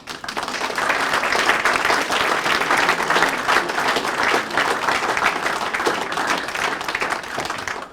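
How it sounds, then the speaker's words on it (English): An audience applauds new Mentor firefighters at a fire department swearing-in ceremony, with steady, dense clapping that stays loud and even for the whole stretch. "if you can give these new Mentor firefighters another round of applause"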